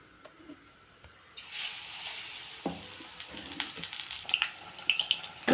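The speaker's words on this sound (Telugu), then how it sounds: "ఎర్రగా కాల్చుకోవాలండి కలర్ వచ్చేంత వరకు" Bachala leaf bajji, batter-dipped, hitting hot oil and frying with a steady close sizzle, a few light clinks of stirring over it; quiet at first before the frying starts.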